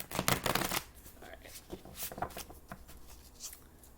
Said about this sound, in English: I'm shuffling so much.